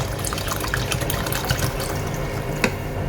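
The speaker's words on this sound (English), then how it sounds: "Let's add in some water" Water pours continuously into a vessel of soaked basmati rice, a steady splashing rush with small drips and gurgles throughout, close up and fairly loud.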